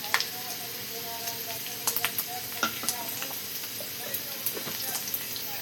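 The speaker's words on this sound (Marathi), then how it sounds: "आणि बघा असं मस्त मिक्स करून घ्यायला आपला कारले." Bitter gourd is being stirred with spices, masala and turmeric in a hot pan, with a steady close sizzle of frying and scattered scraping and clinking of a spoon against the pan.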